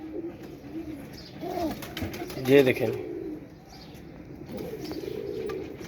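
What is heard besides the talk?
pigeons cooing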